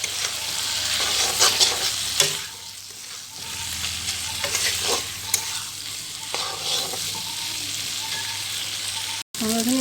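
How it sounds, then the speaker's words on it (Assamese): Mutton pieces sizzle with spice paste in a pan for a curry, with frequent spatula scrapes and clanks as it is stirred, and a brief dropout near the end. "মাংসখিনি ভালকৈ ভাজি লওঁ।"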